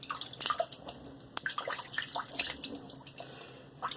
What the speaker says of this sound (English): Rinse out my razor.